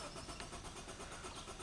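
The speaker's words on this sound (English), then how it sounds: "If we go to start this car" A car's starter cranking in a continuous, even churn with a faint rhythmic pulse, as an ignition start is attempted while the anti-theft light flashes; steady and fairly close throughout.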